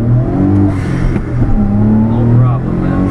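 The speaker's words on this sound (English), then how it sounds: "Tire spin." A 1991 Daihatsu Atrai Turbo kei van with a three-cylinder intercooled engine spins its tires, its engine revving loud and close in rising and falling pulls while people talk over it.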